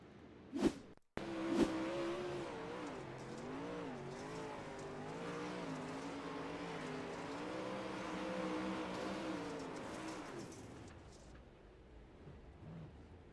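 Onboard a race car, the engine drones steadily with its pitch rising and falling through gear changes and throttle, after two sharp bangs at the start; it fades near the end.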